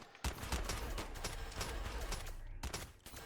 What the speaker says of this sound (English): Oh, both of them have the Christmas dragon rifle.